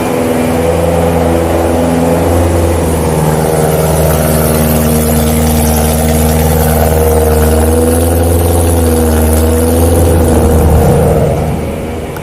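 A supercharged BMW E92 M3 with an ESS G1 kit drones loudly from close inside the car while driving, a steady, heavy engine note that swells slightly before easing off near the end.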